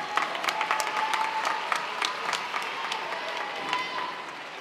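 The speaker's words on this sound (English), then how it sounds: "Give yourselves a round of applause." High school graduation crowd applauding in a large venue, a broad wash of clapping with sharper individual claps standing out, steady then tapering slightly.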